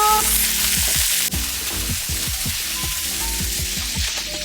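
Soy sauce and dry chili hit hot oil with a loud, close sizzle that fades slightly after a sharp start. Light clinks and scrapes of a utensil sound against the pan.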